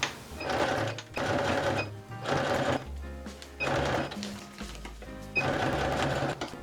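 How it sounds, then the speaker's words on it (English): A sewing machine stitches the lining hem of a vintage 1960s Barbie doll dress, running in five steady bursts of rapid whirring with brief pauses between, close and clear with no talk. "So I'm just going to stitch that all together now."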